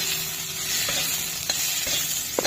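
Onions tossed into hot oil with panch phoron sizzle steadily up close, broken by a few scraping stirs and light clinks.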